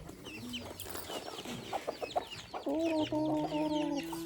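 Hens cluck and chatter in a busy farmyard as they are given feed, several birds close by, with a steady repeated clucking call standing out toward the end.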